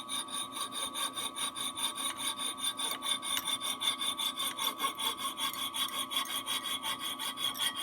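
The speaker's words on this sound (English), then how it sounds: "I'm going to try not to bend it off, but to saw it instead so you don't have a lot of burrs" A saw cuts through metal flatware in steady back-and-forth strokes with an even, raspy rhythm, close and continuous, with no voices.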